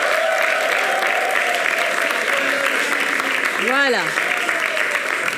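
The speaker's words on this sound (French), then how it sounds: "On continue à applaudir jusqu'à ce qu'ils s'installent." A television studio audience claps steadily, welcoming guests onto the set as the applause holds at an even level throughout. Someone speaks briefly over the clapping.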